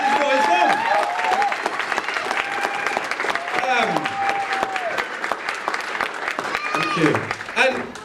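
Audience applause for Roy's mum at a 2008 drum-salute tribute event, clapping sustained across the whole stretch with crowd noise and talking voices over it.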